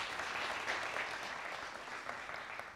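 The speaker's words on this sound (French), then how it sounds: "on va faire un sondage par applaudissement" A conference audience applauding as a show-of-hands poll, moderately distant clapping that holds steady and tapers slightly.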